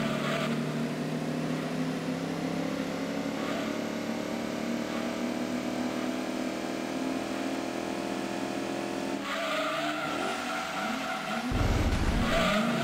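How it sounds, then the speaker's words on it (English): Historic race car in Gran Turismo 2, its engine holding a long, steady drone in a tall third gear, then a gear change and brief tire squeal near the end, loud and continuous. "God, third gear is so long in this thing."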